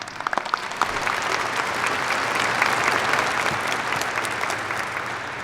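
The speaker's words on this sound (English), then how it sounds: "Let's give Brent a round of applause." A large audience at a university spring graduate degree ceremony claps for the pianist: steady, dense applause that swells after a few scattered first claps and holds evenly to the end.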